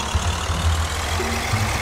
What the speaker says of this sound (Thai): รถไถเก่าๆมาลากดินนะครับนี่เป็นไง